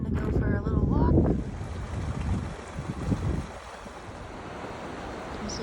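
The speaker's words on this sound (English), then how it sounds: "This is Tuolumne Creek, I believe." Tuolumne Creek near Lambert Dome in Tuolumne Meadows flows with a steady broadband rush, close to the microphone, and wind buffets the mic in the first second.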